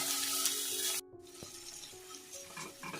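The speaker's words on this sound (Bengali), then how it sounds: "মশলাটা আমি ভালোভাবে কষিয়ে নেব যাতে মশলার কাঁচা গন্ধটা না থাকে।" Masala with Kashmiri red chili powder, cooked for patal rasa, sizzles loudly in a pan for a second, then drops to a softer, steady frying crackle with scraping stir sounds.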